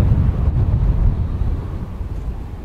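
Wind gusts over an outdoor RC glider flying field, a loud low rumble buffeting the microphone that eases slightly toward the end, with no voices.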